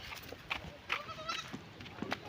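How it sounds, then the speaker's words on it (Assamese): A goat bleats several times close by, short wavering cries spread over a couple of seconds amid light background noise. "এই যে আমার ছাগলটি"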